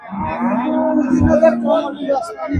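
A cow moos at a cattle market in one long, low, drawn-out call that fills most of the moment, close by and fairly loud.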